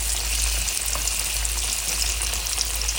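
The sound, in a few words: sweet potato yams frying in a pan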